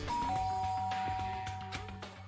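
A doorbell in the video game Danganronpa: Trigger Happy Havoc chimes, a clear sustained ding tone over a low hum, heard alone without talk.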